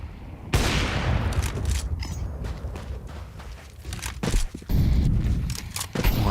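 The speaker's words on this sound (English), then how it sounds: "Mouse hear that AWP rattle off" Sniper shots from an AWP in a Counter-Strike match ring out among dense game gunfire, with sharp bursts and footsteps mixed into a loud, busy soundscape and no speech.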